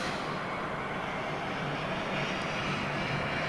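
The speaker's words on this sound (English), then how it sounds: "lots of power delivery on that United Dreamliner" United Boeing Dreamliner jet engines at takeoff power: a steady, broad roar sustained at a distance without letup, with no voices heard.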